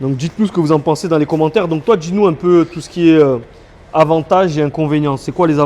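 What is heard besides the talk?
None of the usual background noises is heard.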